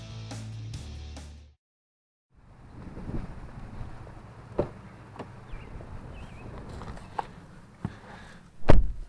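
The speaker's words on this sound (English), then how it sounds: "the wind got really loud out there" Strong wind blows outdoors around a 2017 Ford Escape SE during a test drive, roaring steadily into the microphone with gusts and buffeting thumps that grow loudest at the end.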